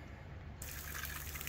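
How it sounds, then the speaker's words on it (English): Water running from the outside shower of a Thor Chateau Class C RV at a campsite, a soft steady spray that gets louder and fuller partway through. "Yep, the outside shower works fine."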